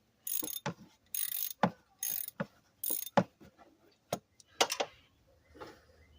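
A ratchet turning tight fuel rail bolts on a 1996 Chevrolet Lumina, heard as several short bursts of quick, close clicking with brief pauses between them, followed by a few isolated clacks.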